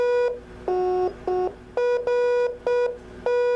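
A fox-hunting radio transmitter tapping out Morse code: loud, clean electronic tones near the mic in a steady on-off pattern of long and short beeps, with brief gaps between them.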